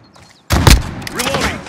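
Gunfire in Call of Duty: Modern Warfare bursts in suddenly after a quiet moment, a loud close volley of shots followed by rattling, echoing fire with a shouted voice mixed in.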